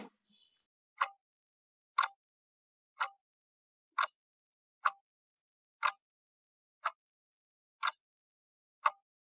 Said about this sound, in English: this is the sound of a clock, right?